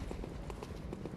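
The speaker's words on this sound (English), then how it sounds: "Good lord, those footsteps sound close." Footsteps of an approaching enemy in Bloodborne, a rapid series of heavy hard-soled clopping steps, close and steady over a low background.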